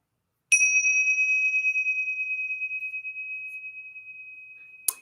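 A meditation bell is struck once and rings out with a clear, sustained tone that slowly fades over several seconds in silence, then a second strike is heard at the very end.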